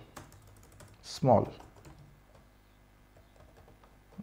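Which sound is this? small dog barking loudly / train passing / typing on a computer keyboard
typing on a computer keyboard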